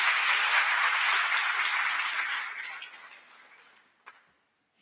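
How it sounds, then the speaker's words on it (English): An audience at a college awards ceremony applauds its achievers, the sustained clapping trailing away into a few isolated claps before falling quiet. "A round of applause for everyone."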